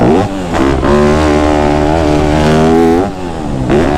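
A Yamaha YZ250F dirt bike engine revs up and holds a loud, close, buzzing four-stroke tone with rising and falling pitch. It dips briefly between throttle blips.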